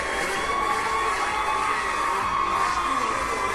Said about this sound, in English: Very much the crowd favorite as you hear them coming alive and coming out of their seats